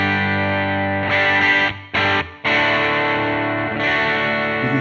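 Distorted electric guitar with the high shelf lowered and the low shelf raised plays loud, close sustained chords, with a couple of sharp breaks between strums and a steady ringing tail.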